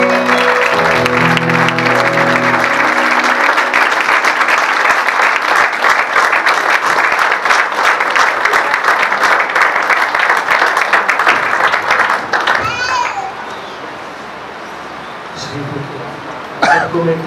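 A church congregation at an Urdu Sunday sermon bursts into loud, sustained applause for the pastor, dense clapping filling the room for about twelve seconds before fading to quieter murmurs and stray sounds.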